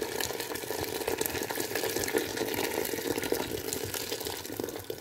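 Hot water from a kettle poured into a pot for chickpea rice, a steady, fairly loud rushing pour that runs without pause for the whole stretch, with no voices over it.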